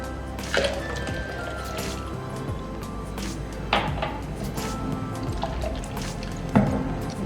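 Water pours and trickles into amla (Indian gooseberry) juice in a container, with a few hollow knocks from the vessel spaced several seconds apart.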